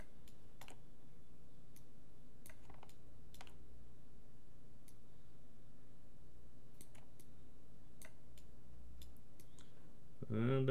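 Sparse, scattered keyboard clicks come from typing on a computer keyboard during 3D modeling work in Maya 2018. The irregular taps sit close and fairly quiet over a low, steady room hum, and a louder noise rises at the very end.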